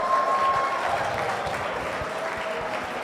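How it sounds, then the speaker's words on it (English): An audience at a cloud computing community event applauds the leaderboard winners, with dense steady clapping at moderate distance sustained for a few seconds. "Let's clap for them"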